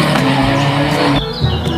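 A toy race car's engine whines loudly with a sharp tire squeal and skid, a brief, close burst of electronic sound effects that drops in pitch partway through, with no voices.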